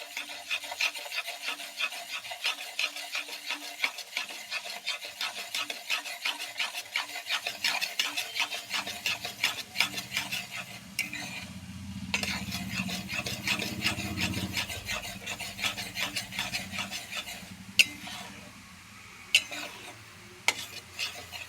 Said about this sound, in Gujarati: બેસનને સરસ રીતે શેકી દઈશું